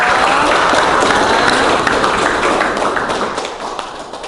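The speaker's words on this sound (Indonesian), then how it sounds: "tepuk tangan buat Aziza" Applause for a student named Aziza after a nursing lecture in an Indonesian classroom, a dense, steady patter of hands clapping close by that gradually thins toward the end.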